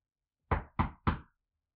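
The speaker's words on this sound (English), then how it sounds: "you reached out and rapped firmly on the wood with your fist" Three firm fist knocks on a wooden front gate door, evenly spaced and close, each a solid hollow thud ringing briefly, then silence.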